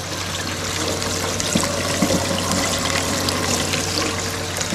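Water running steadily through a gold prospecting sluice outdoors: a continuous, close trickling and pouring wash with faint splashes, even in level and heard alone.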